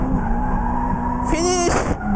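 A D1 drift car enters a corner on full throttle in second gear, its engine roaring close and loud as the tires break into a sharp squealing skid midway through.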